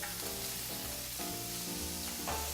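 Steak searing in a hot pan, a continuous close sizzle with a faint underlying hum, steady throughout with no talk.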